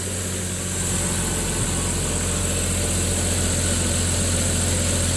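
A Chevrolet Trailblazer engine idles steadily while warming up after a fuel injector and rail replacement, a close, continuous low hum with a constant even drone and no talking.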